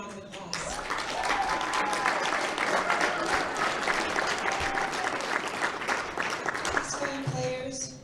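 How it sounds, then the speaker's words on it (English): Sustained round of applause from a crowd at a Texas Hold 'Em poker tournament, dense clapping swelling quickly and holding steady for several seconds before tapering off. "Let's give them a round of applause."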